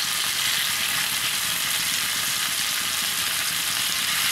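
Karuvadu dried fish frying in a pan, a steady close hiss of sizzling oil that stays even and continuous throughout, with no voices.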